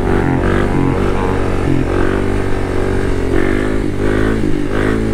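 A Kawasaki dirt bike engine, a KLX300 or KX250F, drones loud and close during a little wheelie over a bridge on an urban trail, a steady throaty buzz with brief rises in revs.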